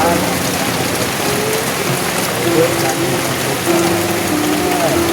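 Storm rain pours down close by as a continuous, even hiss with a faint pattering texture throughout.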